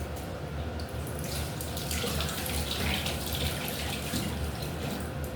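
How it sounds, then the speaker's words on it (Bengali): Bay leaves are rinsed under a running kitchen tap for an egg curry, a steady close splash of water into a sink with no pauses and no talk. "তেজপাতাগুলো আমি একটু ভালো করে ধুয়ে নিই।"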